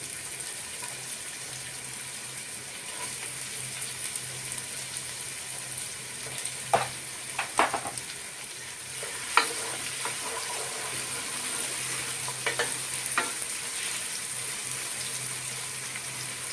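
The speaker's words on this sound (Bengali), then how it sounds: "আর এই পেঁয়াজ কুচি ভাজতে গিয়ে আপনারা সামান্য লবণ অ্যাড করতে পারেন" Chopped onions fry in a pan of spiced oil for a Bangladeshi beef bhuna, a steady close hiss broken by a few scraping stirs in the middle stretch, with no talking.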